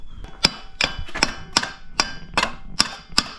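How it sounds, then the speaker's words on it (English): A hammer strikes a bolted engine part from a Suzuki Carry F6A engine about eight times at a steady pace, each blow sharp, close and ringing briefly. "maybe I'll just hit it with a hammer."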